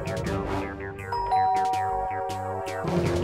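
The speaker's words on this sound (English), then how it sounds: "I'll ring the bell." A bell rings out in a chiming ding-dong pattern, several bright overlapping tones sounding in quick succession, close and clear with no talk.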